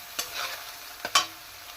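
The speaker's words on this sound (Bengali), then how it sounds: "অল্প হলুদ গুঁড়ো পরিমাণ মতো দিয়ে ভালো করে কষে দিতে হবে" Spices with turmeric and a sugar drop sautéing in a pan, a soft sizzle stirred with a couple of sharp scrapes of a spoon against the metal, close and moderately quiet.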